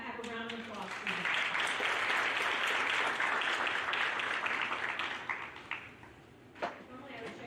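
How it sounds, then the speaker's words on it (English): Audience applause for a certificate recipient at a small group ceremony, a dense steady patter of clapping that swells after the first second, holds, then thins out near the end with a few scattered claps and a voice speaking briefly. "Let's have a round of applause for you."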